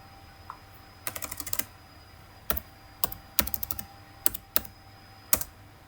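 Someone types on a computer keyboard in Microsoft Word, producing quick bursts of close, crisp key clicks in short runs separated by pauses, fairly quiet with no talking.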